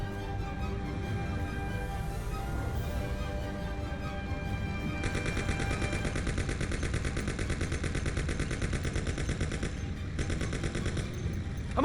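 Thompson submachine gun fire in the 1930s gangster game Mafia: The City of Lost Heaven, sustained rapid automatic bursts over a rumbling engine, the shooting dense and continuous through most of the stretch.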